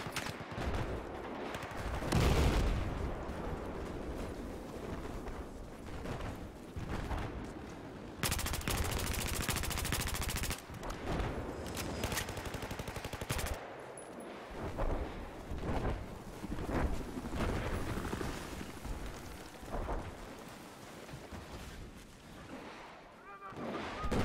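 Gunfire in the Battlefield 4 game on the Zavod map, dense bursts of automatic weapons and heavy explosive booms layered over continuous battle noise, with someone talking over the action.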